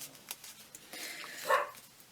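A dog named Nelson barks out in the garden, one muffled, moderately distant bark standing out briefly against a quiet room with small scattered handling noises.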